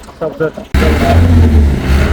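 A 640 tractor engine cranks and fires into a loud, steady low rumble after a brief stretch of nearby talk, running continuously to the end.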